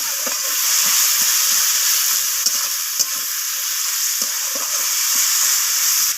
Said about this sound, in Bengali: পেঁয়াজটাকে আমি ভেজে নেব লালচে রং করে